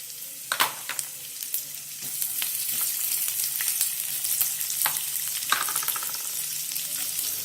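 Cumin seeds and garlic crackle and sizzle in a hot pan for a Lasuni Methi dish. A continuous frying hiss is punctuated by sharp scraping strokes of a stirring spoon.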